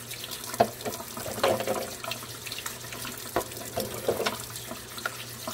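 Tap water runs steadily into a sink while boiled eggs are rinsed, with soft splashes and a few louder knocks as the eggs are handled close by, no talking.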